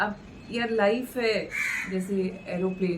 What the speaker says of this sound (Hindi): कौवा जी बोल रहे हैं